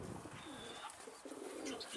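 Pigeons coo softly in a loft, with a few low, rounded calls rising faintly above a quiet background hiss.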